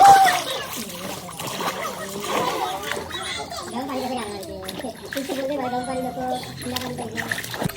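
Water splashes and sloshes in a swimming pool on a getaway to Alibaug, rising and falling in a steady churn. Voices are heard over it throughout.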